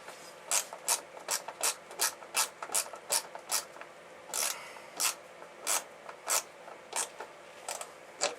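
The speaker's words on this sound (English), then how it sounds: "So 10mm socket or ratchet spanner, whichever. Just take the 3 bolts out." A ratchet spanner clicks in quick repeated bursts while turning out brake light bolts on a 2002 Triumph Bonneville, close and crisp over a quiet garage.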